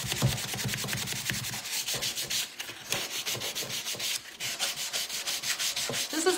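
Sandpaper worked by hand over a wooden jewelry box during a makeover, producing fast, even back-and-forth scratching strokes, close and steady, with brief pauses.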